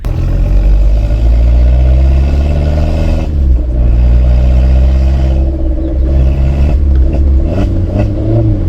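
Modified car's aftermarket exhaust, loud and close, a steady deep droning rumble with shifting tones as the engine holds and changes revs, continuous throughout without speech.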